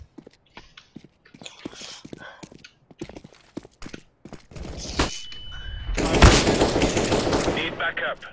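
Sniper and AK rifle fire in Counter-Strike rings out as scattered sharp cracks among footsteps, then a dense, loud burst of gunfire near the end, with a player's voice talking over parts of it.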